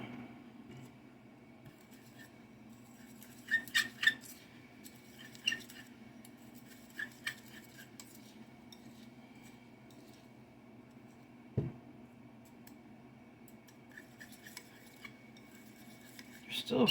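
A utensil clinks and scrapes in a dish while a salt mixture is mixed for protection charms, with scattered sharp taps and soft scraping over a quiet background.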